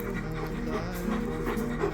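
A small dog named Cricket pants steadily and close by indoors, quick rhythmic breaths repeating without pause over a couple of seconds.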